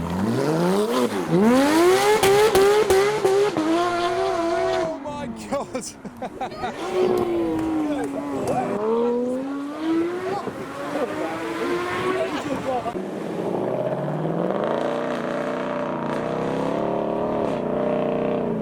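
Mark 1 Mazda MX-5 cars rev and accelerate past one after another, engines rising and falling in pitch, with someone briefly exclaiming over the noise.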